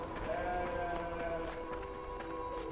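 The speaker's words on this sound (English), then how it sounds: "Sheeps." Sheep bleating in the video game Beyond: Two Souls, a few overlapping calls over steady background noise, moderately loud with no talking.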